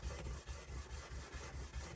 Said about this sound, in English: just to do some hand sanding along the edges and condition the edge